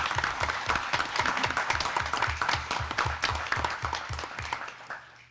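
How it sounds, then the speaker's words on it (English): Audience at a Nashville, North Carolina town council meeting applauds the governor, with steady, dense clapping from a roomful of people that holds for several seconds, then thins and fades out toward the end. "I think you owe our governor a round of applause"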